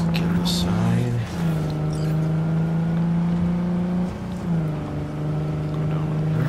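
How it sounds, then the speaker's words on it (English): Car driving past in Cyberpunk 2077, a steady loud engine hum with a sustained tone that dips and rises as it passes close by. "Vehicle. Let's get aside."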